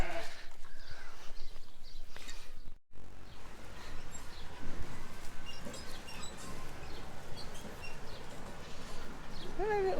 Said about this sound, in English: Just take your little flock of goats and single cow for a walk.